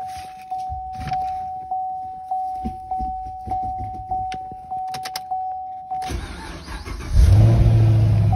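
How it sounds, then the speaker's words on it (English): Inside a 2010 Chevrolet Camaro 2SS with manual transmission, a steady door-ajar chime repeats, then the engine cranks and catches, settling into a loud, close idle that swells with a rev. "And I'll get in and start it up."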